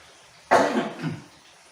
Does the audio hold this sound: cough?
yes